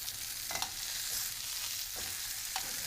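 Salmon fillet flipped in a hot pan, crisp skin sizzling steadily in oil, with a few soft scraping clicks of the spatula against the pan at intervals; no talking.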